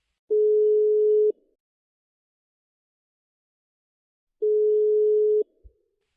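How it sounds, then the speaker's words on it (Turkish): A telephone rings with two identical one-second electronic tones about three seconds apart, clear and isolated against silence. "Bir saniye, öteki telefon çalıyor."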